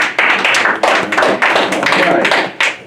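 A studio audience gives a radio show caller a round of applause, close and loud, with dense clapping in uneven bursts that swell and fade over a few seconds.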